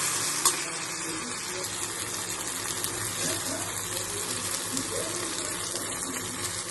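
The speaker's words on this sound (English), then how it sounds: "Keep the flame in the very low so that the masala will not get burnt." Masala frying in a pan over a very low flame, a steady soft sizzle with stirring and scraping running throughout, close and moderately loud with no talking.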